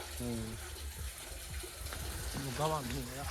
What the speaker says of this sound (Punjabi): ਨਹਿਰ ਭਰ ਗਈ ਨਾ ਪਾਣੀ ਦਾ ਹੀ ਆਉਣ ਲੱਗ ਗਿਆ